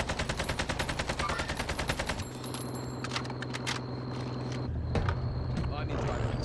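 Call of Duty Warzone gunfire: rapid rhythmic automatic shots at first, then a vehicle engine drone with scattered sharp shots and another burst near the end, while someone talks over the game.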